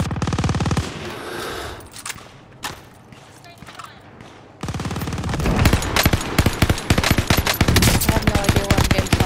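Rapid bursts of automatic gunfire in a video game, loud and dense, breaking off briefly before a sustained stretch of close rattling fire with thuds.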